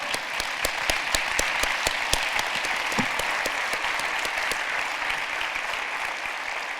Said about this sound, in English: please join me in a final round of applause